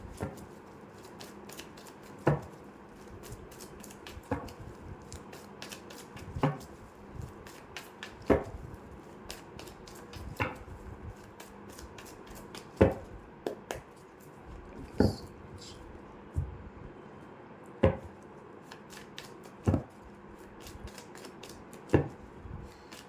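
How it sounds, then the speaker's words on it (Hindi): Tarot cards are shuffled in a quiet room, giving soft rustles and a crisp snap or tap about every two seconds. No one speaks. "यहाँ पर तब तक कार्ड शफल करती हूँ।"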